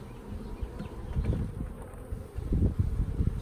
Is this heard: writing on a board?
no